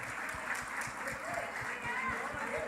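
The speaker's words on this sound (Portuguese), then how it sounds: "Dá um aplauso para ele" Faint applause from a church congregation patters on continuously in the background while a voice carries over it, the clapping soft and distant.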